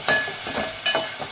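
Shredded cabbage sautéing in a hot pan crackles and sizzles up close, with rhythmic stirring scrapes roughly every half second.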